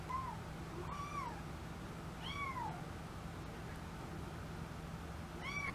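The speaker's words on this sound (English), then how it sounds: "the voices which you are hearing right now, we have just bought a kitten" Newly bought kitten meowing indoors: three thin, high, rising-and-falling mews spaced a second or so apart, faint and somewhat distant over a steady low room hum.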